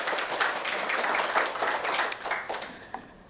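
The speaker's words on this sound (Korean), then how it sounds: "다시 한번 박수 치고 시작하겠습니다" A seminar audience at a business center in Ilsan claps together, a fairly loud burst of many hands with some distinct individual claps, easing slightly near the end.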